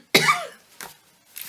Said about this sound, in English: I'm gonna start coughing now.